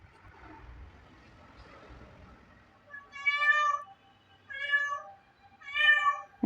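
Three distinct cat meows, evenly spaced and fairly close, following a stretch of quiet background noise.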